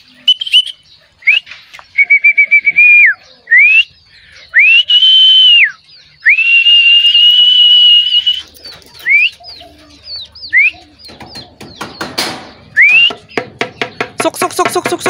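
A pigeon fancier whistles loud, sustained rising and falling calls to bring young racing pigeons back to the loft, repeated in bursts and ending with quick clicking sounds.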